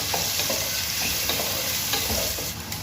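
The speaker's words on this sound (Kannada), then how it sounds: "ಆಮೇಲೆ ಈರುಳ್ಳಿಯನ್ನು ಸೇರಿಸಿದ್ದೇನೆ ಈರುಳ್ಳಿ ಸೇರಿಸಿ ಫ್ರೈ ಮಾಡ್ತಿದ್ದೇನೆ" Onions frying in a pan, a steady close sizzle with soft stirring scrapes throughout, no talk.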